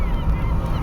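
Seagulls call in a grassy area, a short, loud, nasal honking cry close by that lasts under a second.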